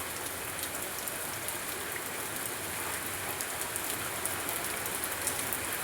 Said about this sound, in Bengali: কি বৃষ্টি হচ্ছে সকাল থেকে, এই থামছে এই হচ্ছে